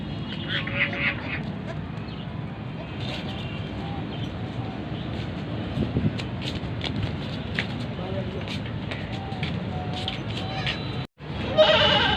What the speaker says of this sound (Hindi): ये एक मेरे पास टापरी बकरी है।